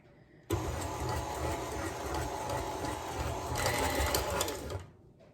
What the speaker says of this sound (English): Now we're gonna put it on our good old mixer